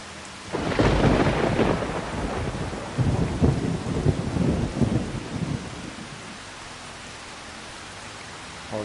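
Thunder and rain in Farming Simulator 25 during field plowing: a heavy rolling thunder rumble builds and crashes for several seconds, then fades into a steady hiss of rainfall.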